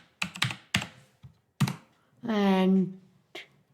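Short bursts of computer keyboard typing as gmail.com is entered, a few quick clustered keystrokes mixed with a voice speaking in the middle, fairly close and moderately loud.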